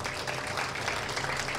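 Audience applause for two writers seated among the crowd at a Tamil speech event, a steady dense clapping that fills the whole short stretch at moderate volume with no voices over it.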